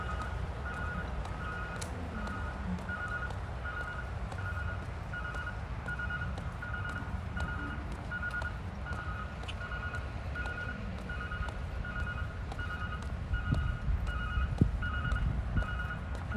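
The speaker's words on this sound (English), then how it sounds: "Sounds like some sort of alarm is going off." An outdoor alarm near a monorail line at a resort, repeating evenly spaced electronic beeps heard steadily at moderate distance over a broad background rumble.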